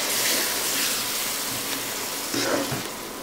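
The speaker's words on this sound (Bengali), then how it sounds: "মশলাটা যাতে পুড়ে না যায় তাই এখানে সামান্য একটু পানি দিয়ে দিলাম" A little water splashes into spices frying in a pan with fried onions for chickpea bhuna curry, giving a steady broadband hiss and sizzle with a few brief louder bursts.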